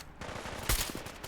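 Gunfire in Fallout: London during a firefight, quick clattering shots with one louder sharp crack in the middle, heard over a busy game backdrop.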